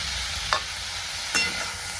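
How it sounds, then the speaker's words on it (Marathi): Tomatoes and capsicum frying in hot oil give a steady broadband sizzle, with two brief louder stirring scrapes partway through; no voices. "तर आता ह्यात मी टमाटो टाकून घेतले"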